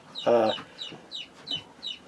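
Aging backyard chickens cluck nearby, with one loud burst of clucking followed by several shorter, softer clucks at a steady pace.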